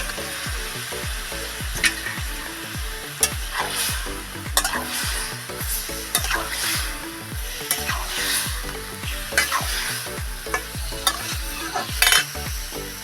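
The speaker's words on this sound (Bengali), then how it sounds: "তো টক দইটা ভালোভাবে তেলে আমি ভেজে নেব।" Young jackfruit and sour yogurt frying in oil, with a spoon working through the pan in repeated rhythmic strokes over a constant close sizzle and occasional sharp scrapes against the pan.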